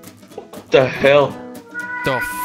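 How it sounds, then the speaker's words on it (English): A house cat meows in a room, sounding close and fairly loud, its cries mixed in among startled speech from people talking over a video chat. "Oh, that's my cat!"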